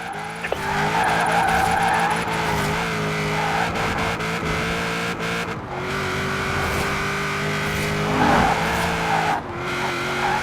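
Car drifting in Forza Horizon 4, a sustained engine drone with long, loud tire squeals that shift in pitch through the turns, plus brief bursts of revving.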